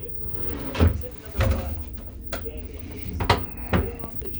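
Large drawers in a cruise ship cabin closet slide open and shut, several solid wooden thuds and knocks at irregular intervals, close and fairly loud in a quiet room.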